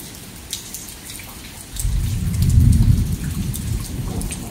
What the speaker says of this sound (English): It's thunder just roaring back and forth without stopping.